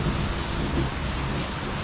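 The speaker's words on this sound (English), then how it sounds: "A rainy morning here in Jantaburi, Thailand." Heavy rain pours steadily on a morning in Chanthaburi, Thailand, a dense, constant roar of downpour with low rumbling beneath, no voices.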